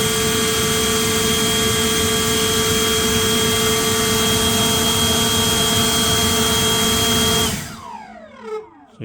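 Ego cordless leaf blower running on turbo, a loud steady close roar with a high tonal whine that holds for over seven seconds, then cuts off and winds down quickly.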